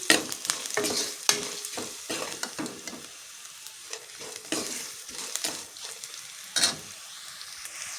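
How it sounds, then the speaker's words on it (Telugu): Garlic and a pinch of turmeric frying in hot oil for a tempering, with steady close sizzling and repeated bursts of stirring and scraping in the pan; no talking. "తాలింపు వచ్చేసి ఫ్రై అయిపోయిందండి."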